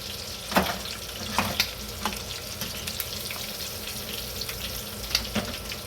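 Food frying in a pan gives a constant dense sizzle and crackle close by, with a few sharper pops and clicks scattered through and no voices.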